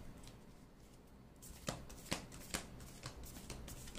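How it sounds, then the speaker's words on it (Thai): Playing cards are shuffled by hand for a fortune-telling reading, heard as a few crisp riffling bursts after a quiet start, close and fairly soft, with no talking. "อาจารย์เป็นตัวแทนสับไพ่และจะเลือกไพ่ให้กับคนที่เลือกกองที่1ค่ะ"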